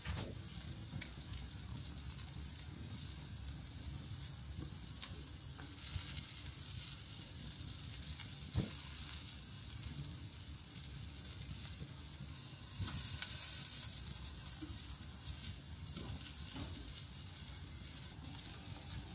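Meat sizzles steadily on a barbecue grill at an outdoor accommodation, a constant fizzing hiss with a few faint pops and one louder crackle, with no voices over it.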